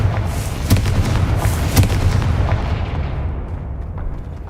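Confringo spell blasts in the Hogwarts Legacy video game burst out as repeated heavy booms and pops within a dense, constant wash of game sound.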